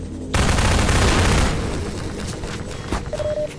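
A hostile robot machine in Half-Life 2 opens fire with a sudden heavy burst of rapid shots, loud and dense for about a second, then tapering into rumbling echoes and scattered impacts.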